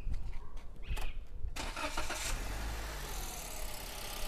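Used 2019-2018 era car engine cranking briefly after some handling noise, then catching and settling into a smooth, steady idle that holds evenly to the end.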